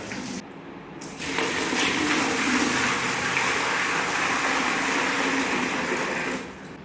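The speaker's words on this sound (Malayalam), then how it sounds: "ആദ്യം വെള്ളം ഒഴിക്കുക." Water gushes steadily from a bucket in a loud continuous pour for several seconds, then cuts off, close by with no talking.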